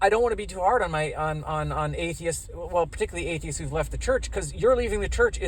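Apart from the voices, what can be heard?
No everyday noises stand out.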